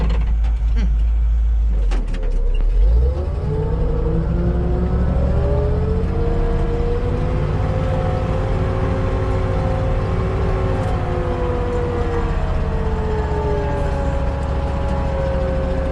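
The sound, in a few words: old truck driving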